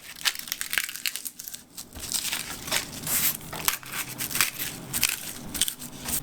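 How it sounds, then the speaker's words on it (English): A sheet of nori cut in half, a dry crackling, crunching rasp that runs almost continuously, close and fairly loud with no talking. "Cut the nori in half."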